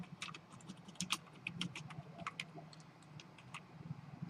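Quiet, irregular clicking of computer keyboard keys as code is typed into a C programming editor, a steady patter of individual keystrokes with brief pauses between bursts.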